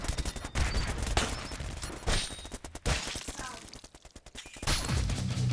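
Dual SMGs fire in bursts during a 2v2 match of the video game Brutal Grounds, rapid crackling volleys coming in several loud clusters with short pauses, as a commentator talks over the action.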